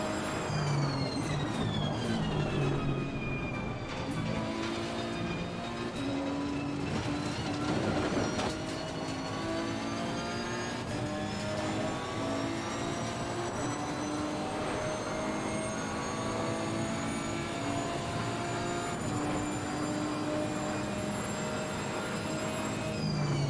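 A racing car engine in Assetto Corsa Competizione roars loudly and steadily, its pitch rising and falling through gear changes. The howl is continuous and close, with no talking over it.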